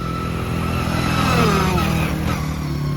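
A Honda 450R dirt bike engine runs close by with a buzzing drone that rises in a rev near the middle and then falls back to a steady idle.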